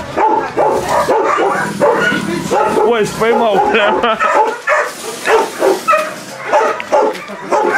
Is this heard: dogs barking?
yes